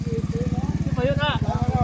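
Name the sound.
motorcycle passing on Ciloa suspension bridge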